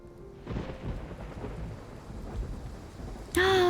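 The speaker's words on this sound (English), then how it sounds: "The rain is so heavy. Why do we always end up caught in a thunderstorm whenever we're together?" A video game thunderstorm: a deep rolling rumble of thunder swells over heavy rain pattering on surfaces, then a bright chiming tone cuts in at the end, with no talking.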